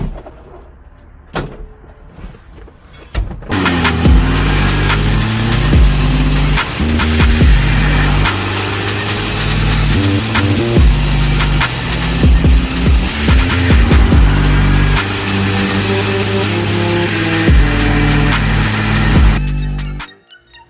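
A turbocharged 1993 Mitsubishi Mighty Max truck engine starts with a few sharp knocks, then roars loud and close, revving up and down repeatedly for about fifteen seconds before cutting off abruptly.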